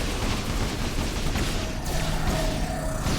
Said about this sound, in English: And a bunch of Polaron shots to the face.